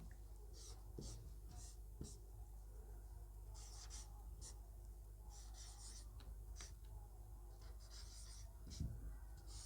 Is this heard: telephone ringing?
no